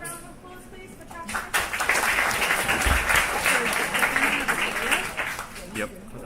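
An audience at a project presentation event bursts into applause, dense and sustained clapping that swells after a quieter first second and carries on steadily to the end.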